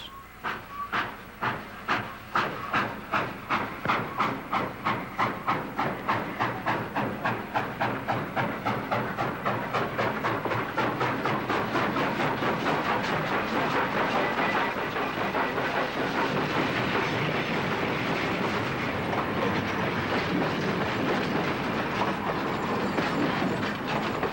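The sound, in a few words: steam train running on rails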